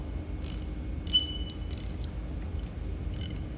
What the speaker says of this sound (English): Make sure we got our ratchet going the right way.